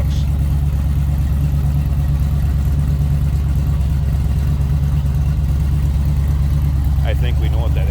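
The engine of a 1970 Chevrolet Nova two-door sedan runs loud and steady at a deep, rumbling idle for the whole stretch, close by, with a voice speaking briefly near the end.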